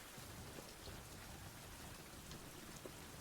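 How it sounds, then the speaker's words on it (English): Steady rain falling in a survival video game, a constant dense hiss of drops with no let-up and no voices. "hopefully it will stop raining"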